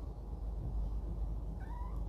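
A young cat of a pricey, tiger-like breed meows faintly near the end, a couple of soft thin cries over a steady low background hum.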